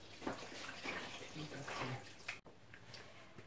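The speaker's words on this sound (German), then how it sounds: "Und jetzt geben wir 200 Gramm Wasser in den Mixtopf." Water poured into a Thermomix TM6 mixing bowl while cooking a paprika chicken dish, a soft splashing trickle for a few seconds that ends abruptly, with a person talking over it.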